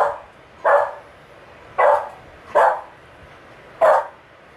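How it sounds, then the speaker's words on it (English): A dog barks indoors in four separate, fairly loud single barks spaced about a second apart, with quiet room tone between them and no talking. "Sorry about that rude interruption from our stupid dog that's barking at nothing."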